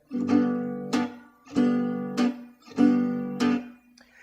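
Acoustic guitar accompaniment strummed in a repeating pattern where each upstroke is slowed and then sped up, producing paired chord attacks in a steady rhythm, close and clear, with no talking.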